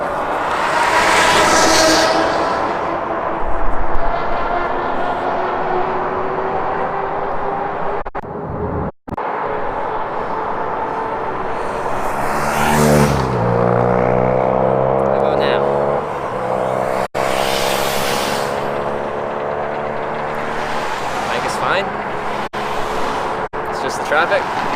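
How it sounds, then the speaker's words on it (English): Road traffic roaring steadily on a Salt Lake City street, with engines surging past at close range and passing vehicles rising and fading over a constant loud wash, while someone talks over it. "Traffic. Traffic can be loud."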